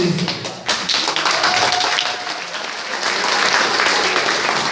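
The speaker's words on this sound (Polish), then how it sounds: "Wielkie brawa też dla publiczności." Audience at a youth rock music festival results ceremony bursts into sustained, loud applause, dense clapping filling the whole stretch after a brief lull at the start.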